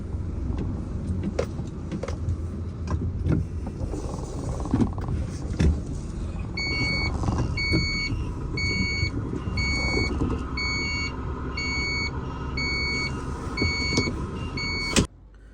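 A truck maneuvers at a fuel station with a steady diesel engine rumble, while a regular reversing beeper pulses repeatedly through the second half before stopping abruptly.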